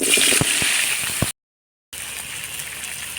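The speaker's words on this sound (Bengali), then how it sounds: "পোয়াশ আর কচুটা ভাজি নেওয়া" Taro and koyash fish sizzling in fish-frying oil, a steady close hiss and crackle with a short silent gap midway.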